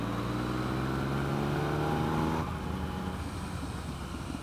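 A 2017 Yamaha FZ09 motorcycle pulls a top-gear roll-on, its engine note droning and rising steadily in pitch under wind rush, then easing off as the tone drops away into broadband road and wind noise.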